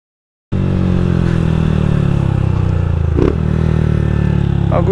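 A Honda motorcycle, a Start, Fan or Titan model, slows under braking with a steady engine drone and rattle running throughout, loud and close, with a brief clatter midway and no talk.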